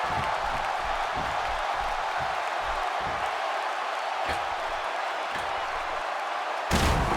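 A WWE 2K16 wrestling game match with a body slam impact thudding over a roaring arena crowd that cheers steadily throughout, with a sharp burst of noise near the end.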